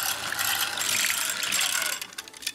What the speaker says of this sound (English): now with the beater, I'm going to mix everything together.